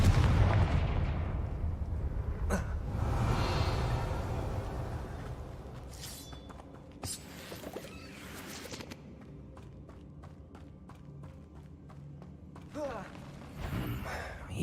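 In the Hogwarts Legacy video game, a Confringo fire blast spell goes off as a sharp burst, followed by a rumbling roar that fades, then scattered thuds, clicks and footsteps.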